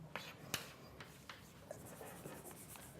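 Chalk or marker writing math terms on a board in a lecture hall, a string of short scratchy strokes and taps at a moderate distance, the room hissing steadily around them.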